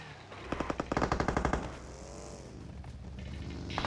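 Rapid bursts of automatic gunfire in a battle royale video game, two quick volleys of sharp rattling shots followed by quieter game sounds.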